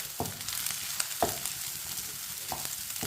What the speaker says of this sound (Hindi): अब चावलों को 3 मिनट के लिए पका लेंगे। 3 मिनट तक पकाने से अंडे भी हमारे अच्छी तरह पक जाएंगे।